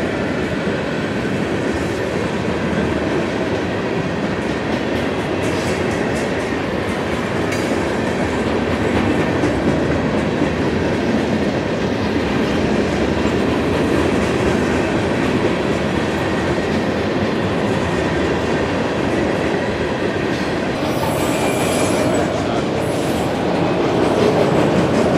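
A Florida East Coast Railway freight manifest train rolls past in a steady, loud, continuous roar with rhythmic clickety-clack of wheels over rail joints and a faint wheel squeal near the end.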